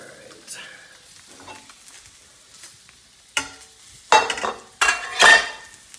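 Carrots sizzle in a pan for steak fried rice, a faint frying hiss that gives way to a few louder bursts of stirring and scraping near the end.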